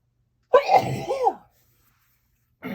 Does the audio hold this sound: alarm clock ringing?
no